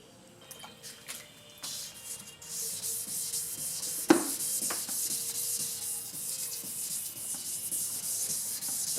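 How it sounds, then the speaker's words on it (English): A foggy car headlight lens is wet sanded with 2000 grit sandpaper, producing steady close rubbing and scraping strokes. There is one sharper scuff partway through, with a continuous wet hiss behind it. "we'll move on to the 2000 grit"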